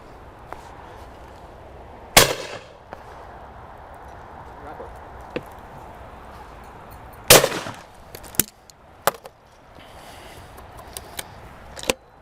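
A 2025 Blaser FBX shotgun fires at clay targets outdoors: two sharp, loud reports ring out several seconds apart, with lighter clacks and handling noises in between over a quiet background.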